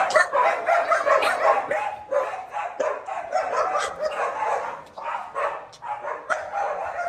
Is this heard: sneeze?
no